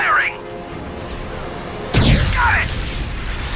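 An ion cannon in Ratchet & Clank: A Crack in Time on PS3 firing and exploding, a heavy boom with a burst of noise, among sweeping synthetic whooshes and game sound effects.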